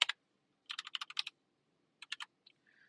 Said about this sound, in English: So all I've done is type color here.